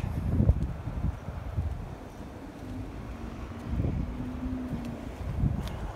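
Wind blowing steadily outdoors along a planted urban green walkway in June, a broad continuous rush with gusty swells and faint low rumble, no voices.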